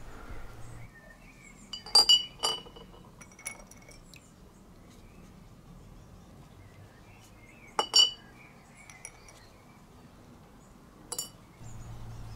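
Metal nuts and bolts clink against one another while being dipped in a cool blackening solution, giving a few sharp, bright metallic clinks in small clusters against quiet background.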